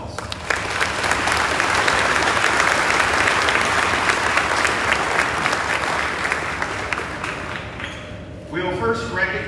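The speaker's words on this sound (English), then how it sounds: "Let's give them a round of applause." Auditorium crowd at an eighth grade promotion ceremony claps loudly for the graduating class, a sustained full-room burst that fades near the end as a voice and a brief tone come in.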